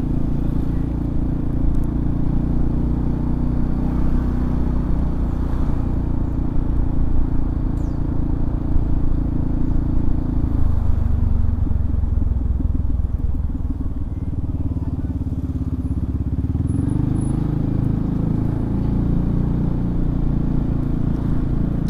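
A 2018 Yamaha Xmax 250 scooter on a test ride along a road, its engine droning steadily and loudly with wind rumble throughout, the pitch easing and dipping midway before climbing again.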